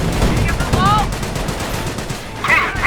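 Company of Heroes battle gunfire, bursts of machine-gun and rifle fire crackling over a busy game soundscape, with a commentator's voice heard partly beneath it.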